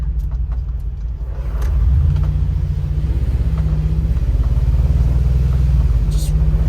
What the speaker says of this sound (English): You hear the engine, it just roars